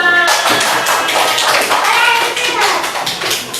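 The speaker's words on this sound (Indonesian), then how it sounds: "Tepuk tangan untuk kita semua." A classroom of children claps their hands at the end of a lesson, quick loud slaps in a rough repeated rhythm close by, with a few young voices mixed in.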